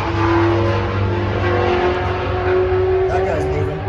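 Race car roaring past, a loud sustained engine drone with a rising and falling tone as it goes by, people talking over it.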